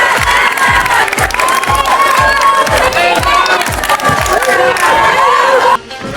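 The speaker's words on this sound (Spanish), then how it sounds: "nuestra comunidad estudiantil nos recibió con unos fuertes aplausos y unos grandes ánimos" Student crowd outside a school cheering and shouting loudly with steady rhythmic clapping throughout, a dense, close, energetic roar that cuts off abruptly near the end.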